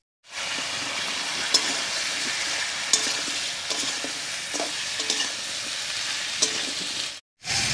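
Chopped green tomatoes fry with turmeric and salt in a pan, giving a steady loud sizzle with occasional scraping stirs before cutting off briefly near the end.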